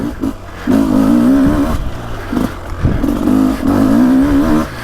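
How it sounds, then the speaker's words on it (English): A 300cc two-stroke dirt bike on Maxxis DOT tires, out on a woods loop, revs in repeated bursts up and down, loud and close, with throttle blips between the sustained pulls. "this engine, I don't know if there's ever been this might be the best running 300 engine I've ever ridden"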